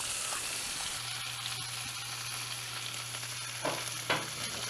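Two pats of butter sizzle in a Field Company cast iron pan over an open fire, a steady hiss with a constant low hum and a couple of sharper crackles near the end.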